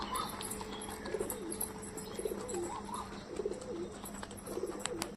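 Pigeons coo softly in a tree, several low repeated calls spaced at even intervals over a constant outdoor background hiss, with no one speaking.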